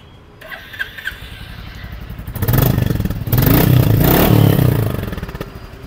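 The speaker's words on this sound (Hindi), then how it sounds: "एक बार एग्जॉस्ट नोट सुन लीजिए" A Royal Enfield Classic 350 motorcycle engine idles, then revs up loudly in a few sustained bursts with a deep, throaty exhaust roar close to the microphone.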